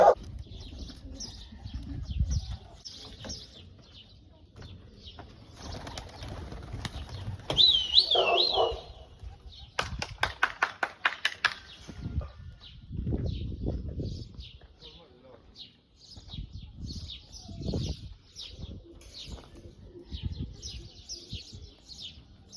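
Tumbler pigeons are released over Mardin, with scattered coos and chirps, bursts of wing flapping and a rapid flutter of flapping wings, while people talk intermittently nearby.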